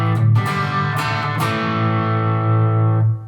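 Sustained chords from a Les Paul Jr electric guitar ring through a Friedman IRX amplifier with hall reverb, a few strummed attacks early on, then a long distorted note decaying with a soft reverb tail.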